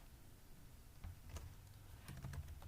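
Keys tap on a computer keyboard, a quiet run of close clicks in irregular bursts with no voices.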